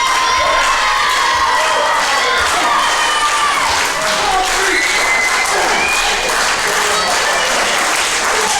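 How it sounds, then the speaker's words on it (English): Wrestling fans at an SWW Combat show clap and chant steadily, a loud, continuous crowd roar with cheers and shouts rising throughout. "MLD's got the fans clapping, they're chanting, they want him to get to his feet here"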